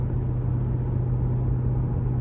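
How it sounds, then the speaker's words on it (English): A 2016 Maserati GranTurismo Convertible in sport mode gives a steady, deep exhaust drone while cruising, loud and close with no talk. "having it in sport mode now, just because I love the exhaust sound"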